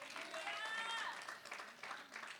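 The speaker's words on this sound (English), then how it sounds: "Let's give the Lord a round of applause" Faint congregation applause during a church sermon, a soft wash of clapping with a high tonal sound over it early on, lasting only a couple of seconds.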